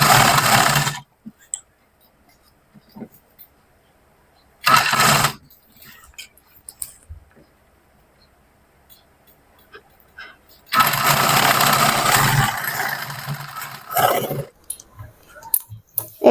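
A sewing machine stitches nighty fabric for a round-neck nighty, running in loud whirring bursts of about one, half and three and a half seconds separated by quiet handling.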